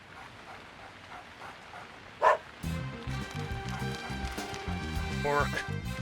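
In the video game Deadly Premonition 2, a dog gives a single sharp bark, followed by a stretch of game music with voices talking over it.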